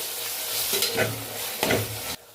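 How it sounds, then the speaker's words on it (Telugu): Tomatoes and green chillies fry in a pan with half-cooked onions for a simple mutton curry, a steady close sizzle broken by a few louder stirring scrapes before it cuts off abruptly. "ఇప్పుడు మనం టమాటా పచ్చిమిర్చి వేసుకుందాం ఇప్పుడు వీటిని కూడా మనం ఫ్రై చేసుకుందాం"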